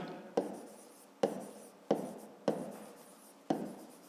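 Handwritten math on paper: five close scratching pen strokes, each starting with a sharp onset and trailing off, quiet and alone.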